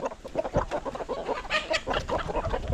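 Rhode Island Red chickens clucking steadily nearby, a busy flock with overlapping short clucks and calls throughout.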